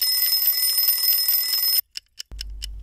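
A mechanical alarm clock rings loud and steady for nearly two seconds, then breaks into a few short bursts before a low rumble takes over, played as a storybook sound effect.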